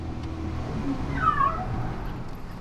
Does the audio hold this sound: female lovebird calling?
no